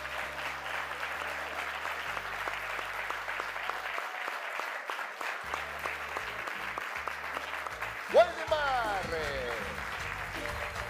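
Studio audience applause welcoming a guest named Waldemar onto a TV show set, steady clapping throughout with talk and music over it, and a shout of the guest's name near the end.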